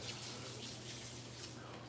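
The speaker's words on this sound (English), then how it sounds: "let me fill this water up a little more." Steady broadband rush of water running from a tap, continuous and fairly close, with no talking.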